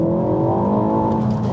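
A Ford Fiesta ST or Focus ST hot hatch engine revs hard toward 7,000 rpm during a launch, climbing in pitch from inside the cabin, a loud sustained drone rising steadily.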